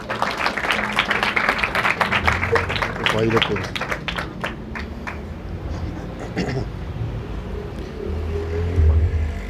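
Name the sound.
congregation clapping during worship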